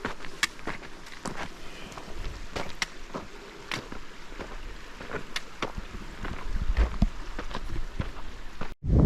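Rain falling steadily during a mountain hike near Elk Creek Campground in Colorado, heard as a continuous patter with scattered sharper drops and light wind, plus a few nearby footstep-like thumps and a louder rustle near the end.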